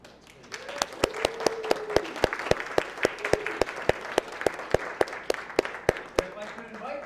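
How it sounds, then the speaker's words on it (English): Congregation applause at a church anniversary lecture series, a broad wash of clapping with one loud nearby pair of hands striking in an even rhythm, voices murmuring under it. "a round of applause would be thanks, please"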